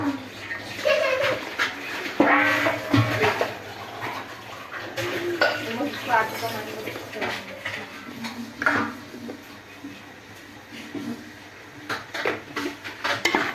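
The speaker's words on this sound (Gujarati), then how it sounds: "સબ્જીઓને આ રીતે મિક્સ કરી લેવાની છે બરાબર." Pav bhaji vegetables get stirred in a metal pot, with scattered scraping and clinking of a spoon against the pot, intermittent and moderately close, while someone talks over it.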